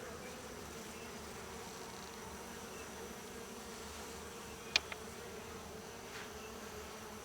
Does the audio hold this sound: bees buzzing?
yes